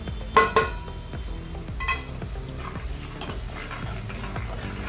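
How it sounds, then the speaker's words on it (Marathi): Green chicken curry with garam masala and coriander-cumin powder being stirred in a pot, a string of spoon scrapes and knocks against the metal over a low sizzle, with two sharp clanks near the start. "चांगलं याला परतून घ्यायचं आपल्याला."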